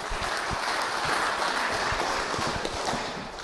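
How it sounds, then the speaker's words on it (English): Audience applause at a cattle company bull sale, a steady dense crowd clapping that holds for several seconds at moderate loudness, with no talk over it. "let's give Austin and the family a nice welcome and a round of applause for their hospitality here today"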